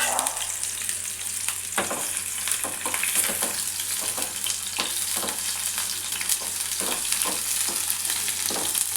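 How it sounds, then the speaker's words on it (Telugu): Onions frying lightly in a spoonful of oil for chole masala curry, a steady close sizzle with crackling pops and occasional stirring scrapes throughout. "ఇప్పుడు 1 స్పూన్ ఆయిల్ వేసుకొని టేబుల్ స్పూన్ ఈ ఉల్లిగడ్డలు ఫ్రై చేసుకోవాలి కొంచెం"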